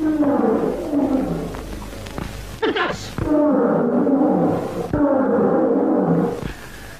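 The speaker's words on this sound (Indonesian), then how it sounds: "Ini suara singa." A lion roars in deep, drawn-out bursts in an old 1949 film soundtrack, loud and close, while someone speaks briefly between the roars.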